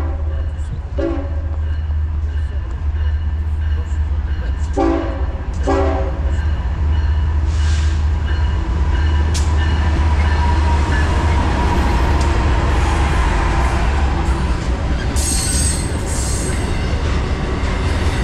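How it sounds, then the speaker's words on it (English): A BNSF intermodal freight train rolls past in Fullerton, its steady loud rumble and clattering wheels filling the whole stretch, with several horn blasts near the start and a squeal of wheels later. "NSF freight train coming."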